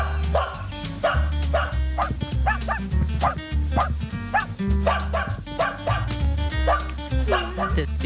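A dog in a Subaru Crosstrek advertisement gives a lively run of barks, yips and whimpers, close and loud, over a steady, pulsing low backing beat.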